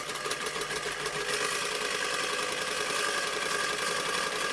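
An old sewing machine runs steadily during a test of its cutting knives, giving a continuous whirring mechanical hum with a fast rattling texture and no voices.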